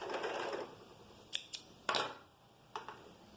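A sewing machine backstitches at the end of a seam while a pleated skirt is sewn, giving a brief whirring run followed by a few sharp, separate mechanical clicks, close and fairly quiet.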